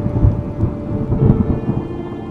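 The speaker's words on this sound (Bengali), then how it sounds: "বাইরে মুষলধারে বৃষ্টি পড়ছে।" Heavy rain pours down steadily during a thunderstorm, with low rumbling thunder rolling continuously beneath the dense, loud downpour.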